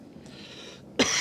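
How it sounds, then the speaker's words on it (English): A single short, close cough bursts out at the very end after a moment of quiet background noise. "Cough my brains out."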